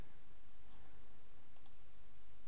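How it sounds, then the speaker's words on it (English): A computer mouse gives a quick pair of sharp clicks as it right-clicks to copy text, faint against a steady hiss. "So I'm going to right click and copy"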